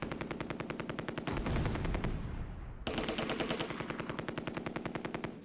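Sustained machine gun fire in the Close Combat: A Bridge Too Far game, set in Operation Market Garden: rapid, loud bursts with a short lull in the middle before the rattling resumes, with no talk.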